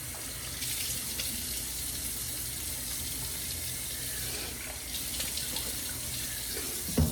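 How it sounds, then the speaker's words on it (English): Tap water runs steadily into a sink as butter is rinsed off, a constant close splashing hiss with a brief louder gush near the end. "let me rinse off this butter real quick"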